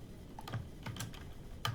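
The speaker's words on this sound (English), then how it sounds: "go ahead and type in print" Soft, scattered keystrokes on a computer keyboard, a few quiet clicks spread across a brief moment in a calm room.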